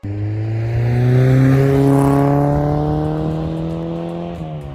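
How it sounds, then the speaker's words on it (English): A car with a loud aftermarket Group N exhaust revs up and holds a rising drone, close by, then the pitch drops sharply as it lets off. "New exhaust, a Group N exhaust."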